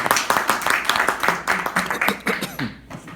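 Audience clapping at a Toastmasters icebreaker speech meeting, a burst of dense hand claps running steadily for a few seconds, fairly close and loud, thinning out toward the end.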